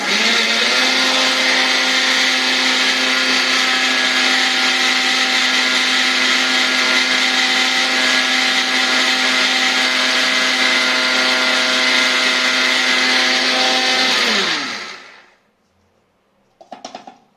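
A mixer grinder whirs loudly and steadily as it grinds garam masala spices in a small jar, running at full speed for about fourteen seconds before winding down, followed by a brief rattle after a short silence.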